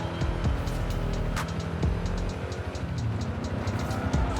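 A 1995 Ford Mustang SVT Cobra R in Forza Horizon 5 drives with a continuous, fairly loud engine drone and a rhythmic pulsing on top, with no talking.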